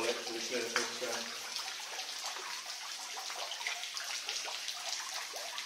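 Water flows steadily into an old underground quarry water tank, a continuous splashing rush close by with a few faint voices underneath.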